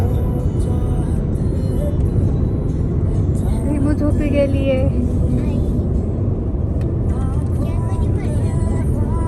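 Steady, loud road rumble from inside a car driving on a German road, a constant low drone with a person speaking briefly over it.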